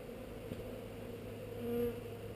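Honeybees buzzing steadily around a hive frame being shaken during a honey harvest, a close, continuous insect drone that swells briefly louder near the end.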